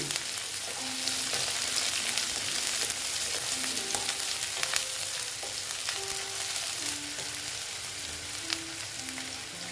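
Onion frying in a pan, a steady close sizzle and crackle that runs for the whole stretch, with occasional light clinks of a stirring utensil and no voices.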